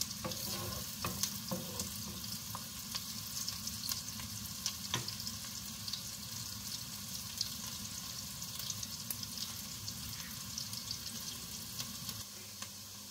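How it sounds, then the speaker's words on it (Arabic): Steady close sizzling of onion and garlic frying in a pan, with occasional clicks and stirring sounds, continuous and fairly quiet. "نستناو على البصله والثومه يتشحروا، نزيدو الدقيق"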